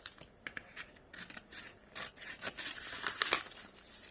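Scissors cut through plastic tattoo wrap film in a quick series of soft, close snips and crinkly rustles, quiet and with no talking.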